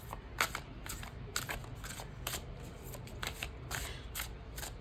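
A deck of cards being shuffled over and over in a quiet indoor room, heard as repeated crisp riffling bursts in a steady rhythm, close and fairly soft, with no talking.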